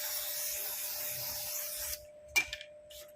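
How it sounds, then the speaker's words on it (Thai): Contact cleaner for electronics sprays steadily onto a graphics card as a continuous close hiss for about two seconds. It stops abruptly, and a few short soft scrapes and taps follow. "จะเป็นสเปรย์ทำความสะอาดแผงวงจรโดยเฉพาะนะครับ"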